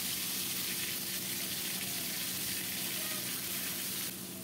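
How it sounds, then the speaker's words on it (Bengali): Ground cumin paste fries in mustard oil with panch phoron and a bay leaf, a dense continuous sizzle and hiss heard up close, steady throughout and easing slightly near the end. "নেড়ে চেড়ে জিরাটাও ভালো করে ভেজে নেব"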